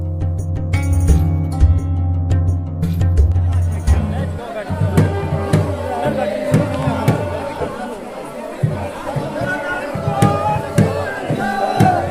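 A dense crowd of pilgrims mills about at the Vaman Dwadashi fair, a Hindu religious gathering in the hills, with loud, continuous chatter and babble close by and occasional clinks and shouts rising out of the noise.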